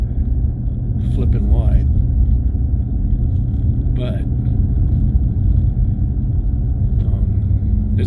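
A 2018 Cadillac CTS-V V3 rolls along a snow-packed dirt road, a steady low engine and tire rumble droning throughout, with occasional faint knocks and cabin noises over it.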